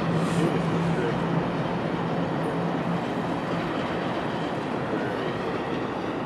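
A CSX freight train led by an EMD locomotive rolls past close by, a loud continuous roar of wheels and rail noise with steady clatter throughout, no talk.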